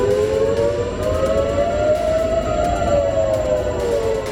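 Civil defense air raid siren sounding across Israel, including the port area of Haifa, its steady wail holding loud and continuous with a slow rise and fall in pitch.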